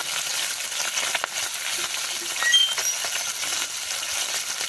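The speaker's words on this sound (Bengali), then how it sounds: "কিছুক্ষণ হওয়ার পর মাছগুলোকে উল্টে পাল্টে ভেজে নেবে" Small mourola fish fry in hot oil in a wok, a steady loud sizzle and crackle throughout with an occasional light metallic clink.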